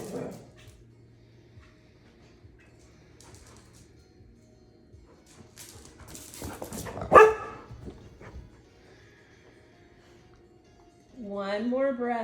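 Dogs barking indoors during a yoga session, a sharp loud bark burst in the middle of otherwise quiet sound, with a person talking before and after it.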